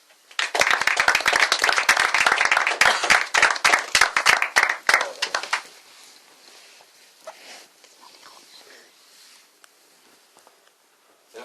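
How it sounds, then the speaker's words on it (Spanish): An audience bursts into loud, dense applause for about five seconds, then it fades to scattered faint claps and rustling before a quiet end. "Y os pido un aplauso para él"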